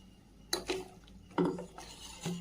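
A spoon stirring ground tomato and roasted-gram masala paste in a pan: a few distinct metallic scrapes and clinks at an irregular pace, quiet and close.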